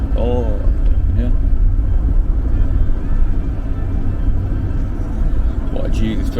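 A car drives along the road toward Kharkiv, Ukraine, giving off a steady low rumble of engine and tyre noise from inside the cabin. The drone stays loud and continuous throughout, with faint music in the background.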